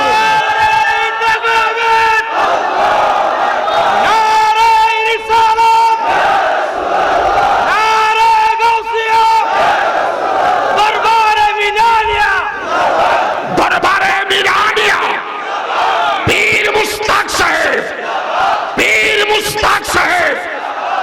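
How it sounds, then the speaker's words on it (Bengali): A large crowd at an Islamic religious sermon gathering loudly chants the slogan "Allahu Akbar" in repeated, rhythmic bursts, voices swelling together and filling the space with sustained, forceful shouting. "আল্লাহু আকবার, জোরে জোরে, আরো জোরে স্লোগান দাও না বাজি, আরো জোরে"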